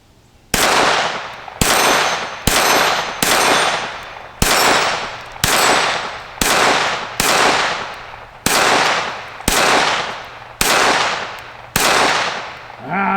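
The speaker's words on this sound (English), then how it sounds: "we'll shoot one more mag up here" A Sig Sauer P322 pistol fires about a dozen loud, sharp shots in a steady, evenly spaced string, each crack trailing off in a short decay, with no talking.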